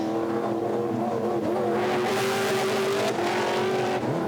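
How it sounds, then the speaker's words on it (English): A winged BMW V8 M3 GTR race car climbs a hillside course, braking and turning in near a flint wall, its V8 roaring loud and continuous with rising and falling engine pitch as it accelerates. "The winged V8 M3 GTR is up towards the flint wall,"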